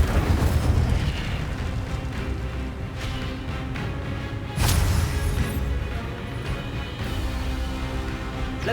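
Repeated fiery spell blasts roar and crackle in the Hogwarts Legacy video game during combat, loud and dense, with several sharp bursts punctuating a continuous rumbling wash.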